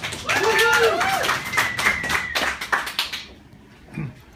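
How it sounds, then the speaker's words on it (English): An audience at a cantina event claps in a round of applause, quick dense hand claps fading out over a few seconds, with a voice speaking above them at the start. "Let's have a nice round of applause for Ed Glister."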